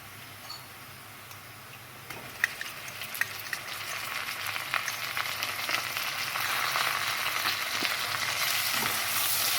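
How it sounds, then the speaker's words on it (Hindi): Steady sizzling and crackling of garlic ginger paste frying in a hot pan with browned onions, growing slightly louder over time, with a few sharp ticks from stirring. "अब हम इसमें डाल देंगे लहसुन अदरक का पेस्ट।"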